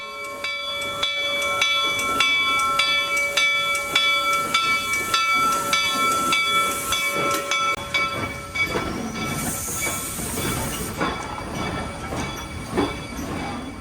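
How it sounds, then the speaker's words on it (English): A 4-8-4 Northern steam locomotive running alone through a station onto a siding, with rhythmic exhaust chuffs and rail clatter, then a loud burst of hissing steam near the end. "The locomotive, without the rest of the train, came through the station and stopped on a siding out of the way of the other trains."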